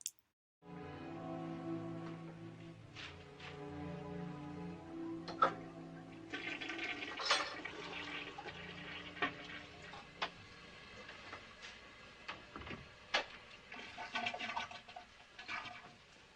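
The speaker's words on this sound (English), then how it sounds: "The scene starts with Marion Crane flushing some bits of paper down the toilet" A toilet flushing in a suspense film scene, a rushing, gurgling swirl of water that fills the soundtrack at moderate level for most of the stretch, with occasional sharper clunks and splashes over a steady watery wash.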